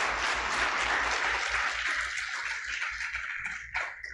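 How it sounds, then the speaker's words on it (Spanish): An audience at a talk on successful women in mining claps in a dense burst of applause that stays full for a couple of seconds and then thins and fades, with a few scattered claps at the end. "Un aplauso, por favor,"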